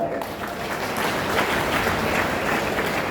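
Sustained applause from a university audience of students, dense steady clapping filling the whole stretch at even loudness with no pauses.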